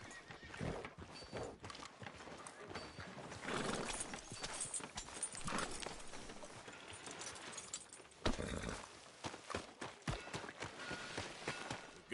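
Hooves clip-clop at a walking pace while a horse whinnies and snorts nearby in the video game Red Dead Redemption 2, with low ambient noise underneath and no talking.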